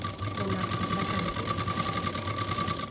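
A sewing machine stitches a seam on a T-shirt, running close and loud in a fast, steady buzzing rhythm for the whole three seconds.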